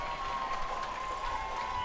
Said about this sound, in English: And you can hear the crowd getting back into it